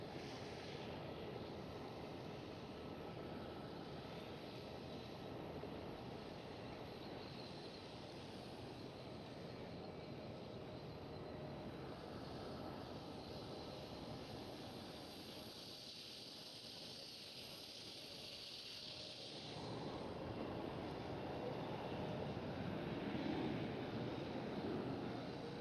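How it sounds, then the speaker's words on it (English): A KLM Cityhopper Embraer E190 departs Schiphol in a broad, steady roar of jet engines and wind that runs throughout and swells toward the end, with no voices. "There it goes on the E190 KLM Cityhopper."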